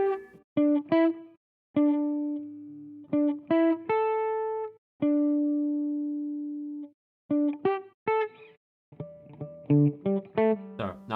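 The Noki Bay groove from Super Mario Sunshine played on a keyboard with a synth tone: short staccato chord stabs and a few held notes in a bouncy, syncopated rhythm, close and clear, with no talking.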